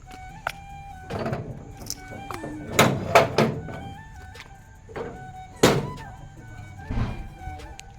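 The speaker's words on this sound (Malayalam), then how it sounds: "ഗേറ്റ് എല്ലാം തുറന്നു വെച്ചിട്ടുണ്ട്" A home gate swings open with a series of hollow thunks and metallic clanks, with a brief scrape between the knocks. The sounds are close and irregular over quiet background noise.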